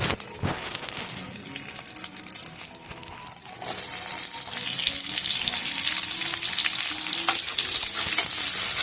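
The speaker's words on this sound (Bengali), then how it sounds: "আদাটা রসুনটা দিয়ে ভালো করে একটু নেড়ে চেড়ে যতক্ষণ না কাঁচা গন্ধ যায় ততক্ষণ একটু ভেজে নিতে হবে" Capsicum and onion frying with ginger and garlic in a pan for chilli baby corn, a steady loud sizzle that swells louder midway, with occasional stirring scrapes and no voices.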